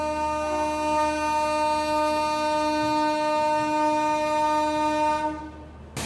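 The Pune Danapur Express arrives at Jabalpur with a long, loud, sustained horn blast that holds steady for several seconds and then cuts off.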